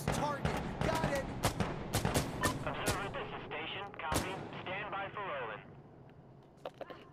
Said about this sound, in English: this is observer requesting a gun run at this target